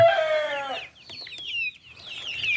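Free-range chicks peep and cluck at feeding time, with shrill, rapid calls overlapping in short bursts at close range and brief quieter gaps between.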